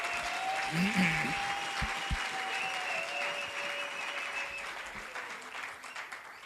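A church congregation claps in a broad, sustained round of applause, with a keyboard or organ tone held underneath and a few brief voices near the start.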